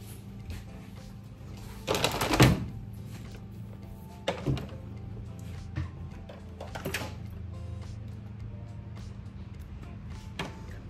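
A new fuel hose being cut: a few short, sharp rasping bursts, nearby and separated by quiet pauses, with the strongest cut early on.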